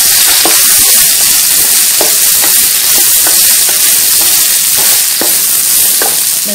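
Beef for bò lúc lắc stir-frying in a pan with garlic, onion and fish sauce, a loud continuous sizzle and hiss with regular scraping knocks of the spatula stirring through it.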